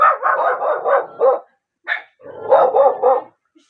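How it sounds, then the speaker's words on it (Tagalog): Dog barking in a quick run of sharp barks, a short pause, one more bark, then another burst of barking, close and loud. "May aso eh."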